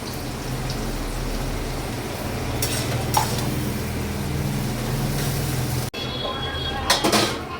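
Ginger garlic paste hits frying onions in a pan with a steady, close sizzle and occasional stirring scrapes, and a brief sharp clatter near the end.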